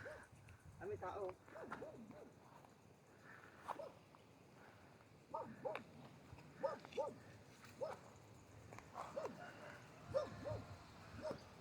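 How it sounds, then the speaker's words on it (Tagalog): A dog barks in short repeated yelps at a distance on a hill near a hut in Gabaldon, Nueva Ecija, faint under people talking. "May aso."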